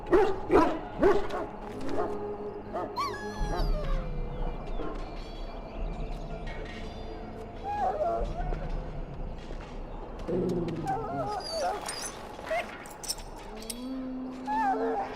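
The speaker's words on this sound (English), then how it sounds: "Now I can treat the dog properly, poor fella." Dog in the video game Dragon's Dogma 2, barking and whimpering in short bursts, with yips and whines scattered across the stretch alongside game sounds and character voices talking.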